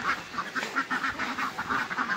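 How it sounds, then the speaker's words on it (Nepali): Adult parent ducks of an Indian breed from Sitamarhi, kept at a Nepali pig and poultry farm, quack repeatedly in a steady, busy chorus at moderate distance, with no talk over them. "ल हाम्रो हाँसहरू चाहिँ प्यारेन्ट हाँस है"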